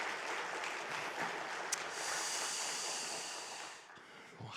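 Congregation applauding during a Sunday worship service at a Korean church, a steady wash of many hands clapping at moderate level that continues for several seconds before tapering off near the end.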